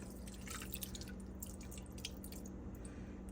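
Water trickles and drips steadily into a slow cooker pot while making a chipotle chicken sandwich filling, a close, continuous pouring sound with small splashes and no talking.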